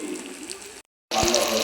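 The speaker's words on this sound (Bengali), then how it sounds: "এখন আমি এই যে ফুটানো পানি দিয়ে দেব।" Boiling water poured into a pan of roasted rice, a close splashing pour that cuts off into a brief silence and then resumes with a gush and bubbling.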